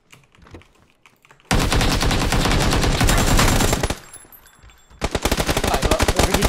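Automatic rifle fire in a video game, loud rapid bursts of closely spaced shots, one long burst, a short pause with faint clicks, then another rapid burst, with no talking.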